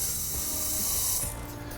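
Aerosol penetrating spray hissing steadily onto the exhaust downpipe nuts of an S1 Lotus Elise, a close continuous spray that cuts off near the end.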